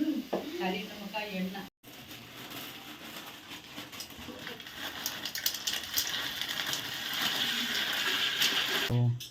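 Homemade French fries sizzle steadily in hot oil, a dense crackling hiss that holds at even strength throughout, with brief stirring clatter near the start and end.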